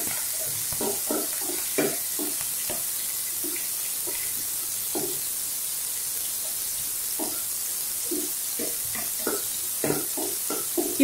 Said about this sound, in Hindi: 6-7 बारीक कटे हुए करी लीव यानी कि कड़ी पत्ता, और 1 हरी मिर्च बारीक कटी हुई, थोड़ा सा फ्राई कर लेते हैं